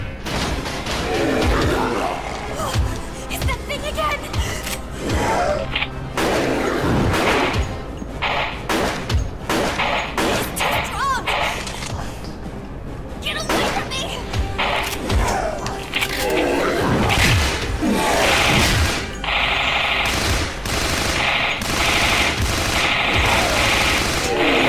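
Rapid gunfire from the video game Resident Evil: The Darkside Chronicles rattles almost continuously, loud bursts layered with thuds and crashes, while a German-speaking player talks over the shooting.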